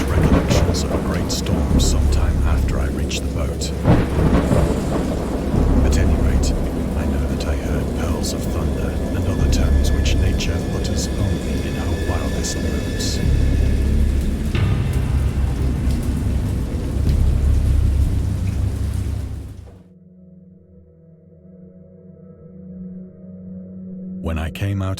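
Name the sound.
thunderstorm with rain, sound effect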